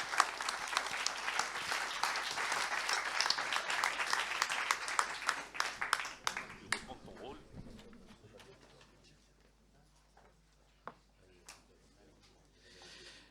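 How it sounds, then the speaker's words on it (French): A large audience applauds loudly for about six seconds, then the clapping thins to a few scattered claps and fades out. "Bernard Cazeneuve, que je vous demande d'applaudir"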